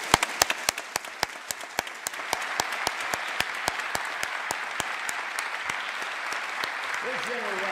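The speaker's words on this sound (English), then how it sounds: "Let's give them a round of applause." The audience at a South Dakota State of the State address applauds, starting as sharp, scattered individual claps and thickening into fuller clapping in a large hall. A voice briefly emerges near the end.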